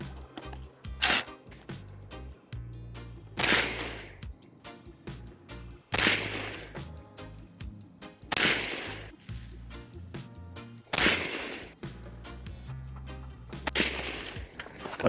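An Aero Precision Thunder Ranch Edition rifle firing Gorilla .223 ammunition with 77-grain Sierra MatchKing bullets, loud sharp shots spaced a couple of seconds apart, each followed by a brief echoing tail, with fainter pops between.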